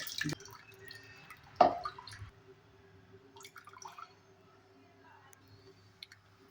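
Fresh coconut milk dripping as grated coconut soaked in hot water is squeezed out, quiet scattered drips with one sharper splash early on, close and alone against a faint background hum.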